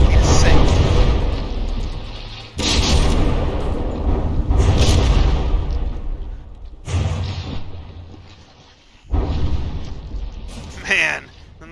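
Naval artillery volleys from the video game From the Depths slam into a battleship, landing as heavy booming impacts and rumbling blasts. They come in loud bursts with brief lulls between them.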